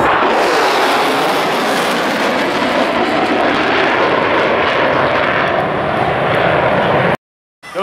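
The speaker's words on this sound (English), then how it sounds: "Our Growler 1 is setting up at approximately 700 miles an hour for the carrier break." A US Navy EA-18G Growler jet making a high-speed pass near 700 mph ahead of a carrier break at a flying display, its loud, broad engine roar sustained for about seven seconds before cutting off abruptly.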